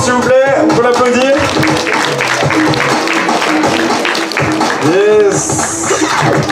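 Applause and scattered clapping from an outdoor crowd at a harvest festival freestyle football show, running under a loud announcer's voice and other voices, with a whistle-like tone near the end.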